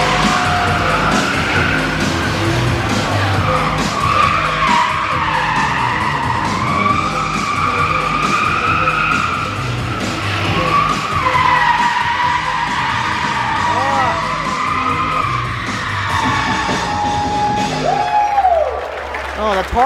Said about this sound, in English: Oh, the tire screeches ear piercing.